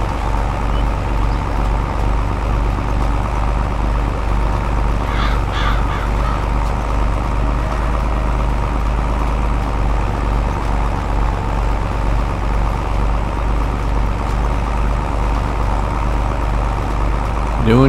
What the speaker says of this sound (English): Give this little tractor a workout, won't we?